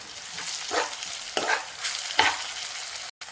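Onions frying with ginger garlic paste in a pan for chicken fry, a crackling sizzle broken by three or four scraping stir strokes, close and clear, with no talking.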